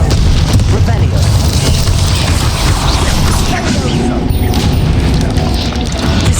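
A Confringo fire spell explosion in the video game Hogwarts Legacy erupts as a loud, dense boom with crashing, roaring debris that stays heavy through the whole stretch, joined by brief voice-like game sounds.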